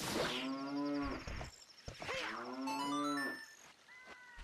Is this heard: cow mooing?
yes